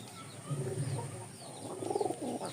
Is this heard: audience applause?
no